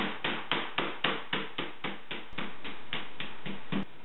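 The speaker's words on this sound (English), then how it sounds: "I'm going to take the flat side of my mallet and I'm going to flatten it until it's about 1/4 inch in thickness." Flat side of a meat mallet pounding chicken breast thin, a steady series of about a dozen sharp, evenly spaced thuds close up, with no talking.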